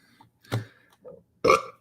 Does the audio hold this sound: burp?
yes